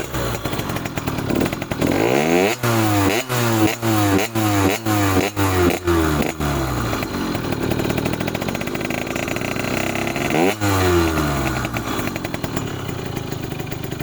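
A Derbi 50cc moped engine revs in a run of quick, rising blips, followed by steadier buzzing, another rev, and a high, rasping two-stroke idle, loud and close throughout.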